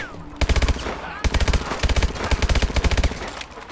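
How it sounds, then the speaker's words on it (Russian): Automatic rifle gunfire in Call of Duty: Advanced Warfare, loud rapid bursts of shots in several strings separated by short gaps, close and dominant with faint game ambience between bursts. "Дурацкий автомат."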